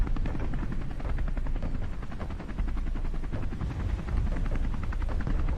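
A video game helicopter's rotor gives a continuous rapid, even chopping thump, moderately loud and steady throughout, with no talking over it.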